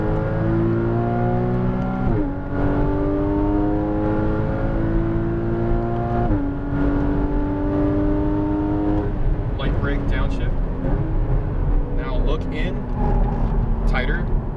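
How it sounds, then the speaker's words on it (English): A Porsche Cayman GTS on a race track accelerates out of a corner, its engine climbing loudly through rising harmonic sweeps with gear changes, up close and steady throughout, with instructor voices talking over it. "Now you can start accelerating as you open up the radius."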